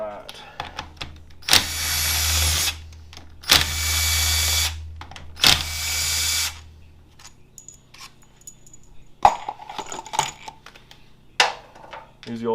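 Power tool whirring in three loud bursts, each a second or so, as it removes 8mm bolts from a 4L60e transmission on a 2004 GMC Sierra, followed by small metallic clinks and rattles of bolts and parts.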